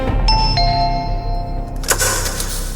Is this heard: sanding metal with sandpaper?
no